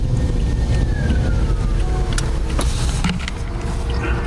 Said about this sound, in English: I hear a lot of sirens outside.